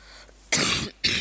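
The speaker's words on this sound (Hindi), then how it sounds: "बाप रे कितना खांसी चल रहा है आज ही" Two loud, close coughs in quick succession, the first longer and the second short, from a woman teaching a CGTET/CTET English pedagogy exam lesson in Hindi, with no speech between them.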